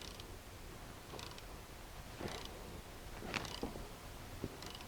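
A wrench tightens the sway bar bushing nut on a 2003 Ford Ranger, giving faint, irregular ratcheting ticks and metallic clicks in short bursts over a low background.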